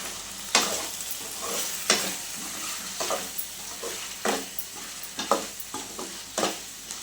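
Andhra-style chicken pulusu curry bubbles and sizzles in a pan while a spoon stirs it, giving irregular scraping strokes over a soft frying hiss, close by and without talking.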